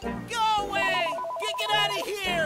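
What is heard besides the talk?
phone ringing in a VR video game (Accounting+)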